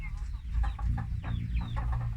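Hens cluck close by on a farm with a three-year-old rooster among them, a quick run of overlapping clucks and short squawks over a low, rumbling background.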